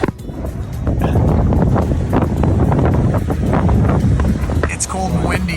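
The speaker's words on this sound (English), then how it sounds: "It's cold and windy." Strong, cold wind roars and buffets the microphone continuously, a steady rumbling gust throughout with some faint rustling on top.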